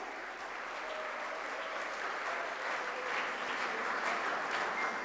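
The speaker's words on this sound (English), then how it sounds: "So huge round of applause for all the speakers, all the participants, all the volunteers." A conference audience applauding its speakers at a closing keynote, a steady, even wash of many hands clapping that holds for several seconds and swells slightly toward the end.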